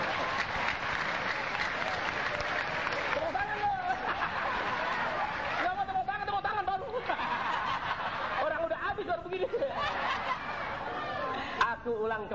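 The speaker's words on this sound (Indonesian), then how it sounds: "Tepuk tangan" Clapping from a gathered audience at an Islamic religious lecture, mixed with snickers, chuckles and chatter; a voice talks over the crowd noise throughout.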